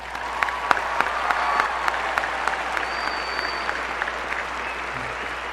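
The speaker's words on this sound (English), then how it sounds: "So let's give us a big round of applause." Steady applause from a high school graduation audience at Weber High, a continuous wash of many hands clapping with some individual claps standing out, holding at an even level throughout.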